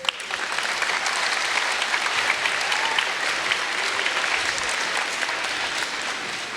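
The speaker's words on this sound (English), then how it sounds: "Can we also give a round of applause to our sound guy tonight, Dennis Minks?" Sustained audience applause fills a hall at a school choral festival, a dense even clapping that holds steady at full strength throughout.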